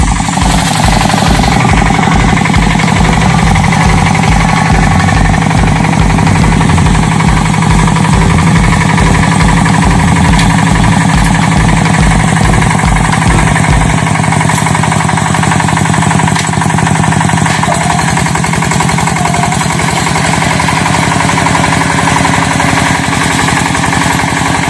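A small hand tractor for tilling farm fields runs loud and close, its engine chugging in a steady, rapid knocking beat for about fourteen seconds, then smoothing into a continuous rumbling drone.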